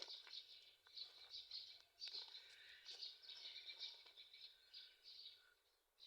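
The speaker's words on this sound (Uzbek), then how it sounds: "Qushlarni sayrashlarini qaranglar." Birds sing outside on a residential street at dawn, a faint, distant, continuous mix of high chirps and twitters with no voices nearby.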